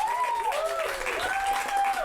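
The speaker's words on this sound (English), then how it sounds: "Everyone, a round of applause for GottaGetAT-shirt.com." Audience applause at a live improv comedy show, a steady wash of clapping lasting about two seconds with faint whistle-like tones riding over it.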